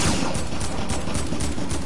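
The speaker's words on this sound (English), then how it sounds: "Why are they shooting like that, man?" Rapid gunfire bursts crackle from a PS4 shooter game, dense overlapping shots in a loud, continuous fusillade.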